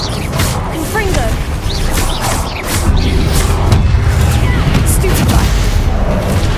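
A Confringo fire spell from Hogwarts Legacy goes off in dense battle noise, booming blasts and crashes layered over spell effects and game music, with a voice shouting the spell's name amid other duel calls.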